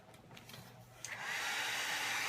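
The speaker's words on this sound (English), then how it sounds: "with my heat gun" A heat gun starts at about one second and blows steady hot air over a craft piece to dry it, a loud continuous whoosh that runs to the end after softer low rustling.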